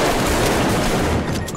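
Rapid automatic gunfire in the first-person shooter Arktika.1, a dense, loud continuous burst of shots filling the whole short moment before easing slightly at the end.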